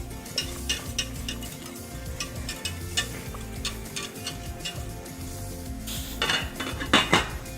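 Grits being whisked in a pot, the whisk scraping and ticking against the metal in quick, uneven strokes, close and fairly loud, with a brighter burst of rapid clatter near the end.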